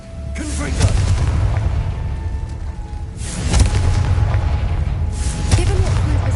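In Hogwarts Legacy, three Confringo blasting spells go off as repeated booming explosions at roughly even intervals, each with a sharp burst and a rumbling tail, layered under low game ambience and some voice.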